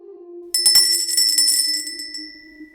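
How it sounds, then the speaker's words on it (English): A small bell rings out once with a bright metallic strike and shimmering overtones that fade slowly over about two seconds, above a low steady hum. "I'll ring the bell."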